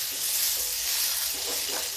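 Potato pieces frying in oil in a pan give a loud, steady, close sizzle with a crackling hiss that swells slightly as they are stirred, with no voices.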